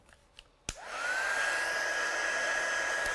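A heat dryer switches on after a couple of soft clicks and spins up into a steady, loud blowing whir with a high whine, aimed at a wet painted card.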